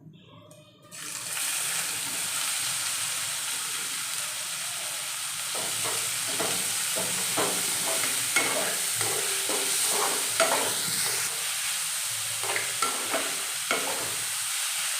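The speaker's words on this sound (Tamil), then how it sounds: "வெங்காயம் வந்து கோல்டன் ப்ரௌனாக வர அளவுக்கு வதக்கிக்கணும்." Chopped onions and dried red chilies sautéing in hot oil give a loud, steady sizzle, broken by the scrape of stirring about halfway through.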